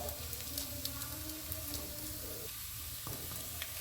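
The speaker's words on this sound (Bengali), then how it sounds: "দেখুন আমাদের প্রায় ভাজা হয়ে এসেছে।" Battered potato pakora frying in oil, giving a steady close hiss and sizzle with faint crackles throughout, alone with no talk.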